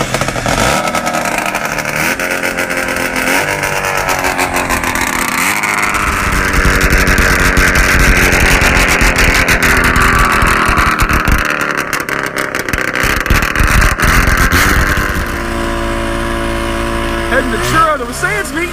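An old track motor from a vintage snowmobile, an Olympic sled, runs loudly and steadily, its engine note rising and falling through repeated revs before it drops lower near the end.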